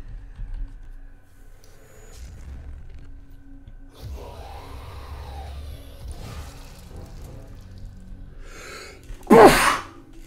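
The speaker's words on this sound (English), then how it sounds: "Sorry about that, I had to sneeze." A person sneezes once, loud and close, near the end. Before it come quieter background sounds and faint clicks, apparently from a Doom gameplay session.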